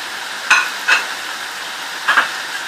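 Chicken and onion sautéing with garam masala in a pan: a low background sizzle broken by about four short scraping strokes of a spoon, close and brief.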